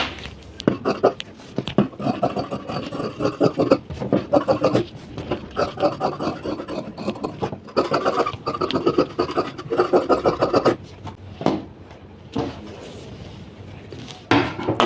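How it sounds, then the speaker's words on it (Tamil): Scissors cut through blouse fabric along marked lines on a table, giving close, rhythmic crunching snips and scraping strokes in quick repeated bursts with brief pauses. "இதையே நம்ம கட் பண்ணி எடுத்துக்கலாம்."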